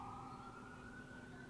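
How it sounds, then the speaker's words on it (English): An emergency vehicle siren, from a police car, ambulance or fire truck, holds a steady high wail throughout, faint and distant over low road rumble. "thanks for ruining the video, police car, ambulance, fire truck, whatever you are"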